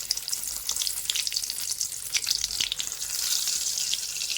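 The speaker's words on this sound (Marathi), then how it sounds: "चांगलं तापू द्यायचं आणि एक एक वांगे त्याच्यामध्ये असे सोडायचे" Steady crackling sizzle of whole brinjals frying in hot oil, close up, with scattered pops and no talking.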